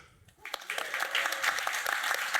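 Audience at a dinner panel session breaks into applause after a quiet start, many hands clapping in a dense, fairly loud patter that keeps going to the end.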